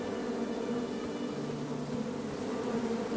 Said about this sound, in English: I ruined the bees' day.